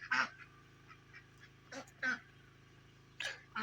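A backyard flock of ducks and geese on an off-grid homestead gives several sharp, close honks in irregular bursts over quiet background hum.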